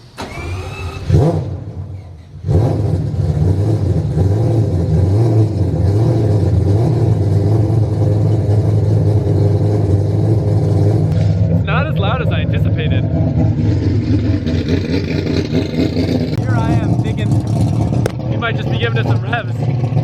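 A Mitsubishi Evo 6.5 TME RS at a track day revs loudly and steadily after a brief start, its engine note rising and falling near the listener while people talk over it.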